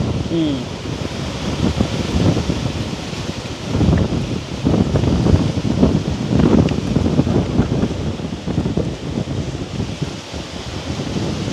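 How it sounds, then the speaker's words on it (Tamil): Wind blows outdoors around a rural village kitchen, a loud, continuous rushing roar with gusts swelling midway and fading toward the end, no talk. "காற்று அடிக்க பாருங்க"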